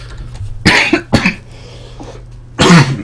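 A person coughs close to the microphone while playing Minecraft amid lava smoke: two harsh coughs in quick succession, then a pause and a third raspy cough with some throat clearing.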